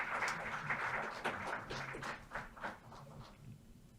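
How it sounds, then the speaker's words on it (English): Audience applause in a hall greeting the committee chairman before his opening remarks, a steady dense patter of many hands clapping that fades slightly toward the end. "I would like to welcome him with a big round of applause"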